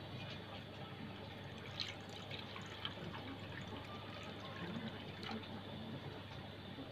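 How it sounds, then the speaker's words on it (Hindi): Water runs steadily into a cooking pot for several seconds, a soft continuous pouring with faint splashes, fairly quiet and without talk. "और उसमें ये पानी डालेंगे।"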